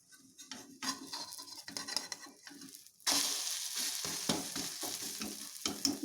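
A carrot omelette being flipped in a pan: soft spoon taps and scrapes, then a sudden loud burst of frying as it lands, settling into a steady close sizzle with occasional utensil knocks.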